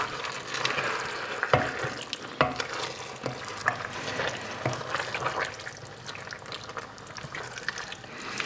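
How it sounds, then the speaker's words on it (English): Crushed tomatoes are gently stirred into soft cooked vegetables for ratatouille in a pan, giving wet scraping and squelching under a low sizzle, with a few sharper spoon knocks against the pan, and no talking. "add crushed tomatoes and gently give it a stir"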